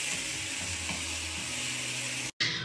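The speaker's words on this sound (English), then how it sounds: "So I put my tomatoes in, and that's all cooking away really nicely." Tomatoes frying in a hot pan for ratatouille give a dense, steady close sizzle throughout, with a brief cut just before the end and no talking.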